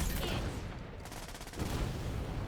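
Video game combat with mortar explosions and gunfire: a short, continuous rumble of distant blasts and rapid shots, fairly faint in the mix.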